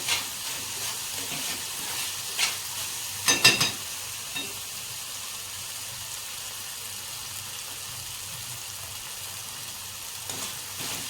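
Chopped green garlic sautés in ghee in a pan, giving a steady close sizzle with a few brief stirring scrapes and clinks early on.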